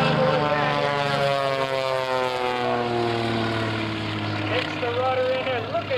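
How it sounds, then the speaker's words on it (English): A propeller aerobatic plane named Samson, flown at the 2004 Sussex Airshow, drones loudly and continuously overhead, its engine pitch sliding up and down as it maneuvers. "Bobby Younkin going to bring this airplane around"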